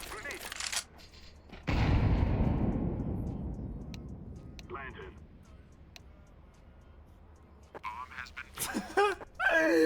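Counter-Strike 2 gunfire on the Nuke map erupts in a loud burst that rumbles and fades over a couple of seconds, with people talking excitedly before and after.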